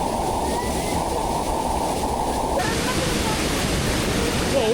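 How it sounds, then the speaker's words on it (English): A small waterfall in New Zealand pours steadily, a loud, close, continuous rush of falling water that fills the whole moment without pause. "has chosen a mini baby waterfall"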